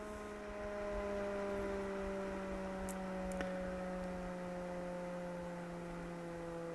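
PWM-controlled extractor fans on a 3D printer enclosure spin below full power, giving a steady, even motor hum with a faint tonal whine that runs unchanged throughout. A couple of tiny ticks occur partway through, and no one speaks.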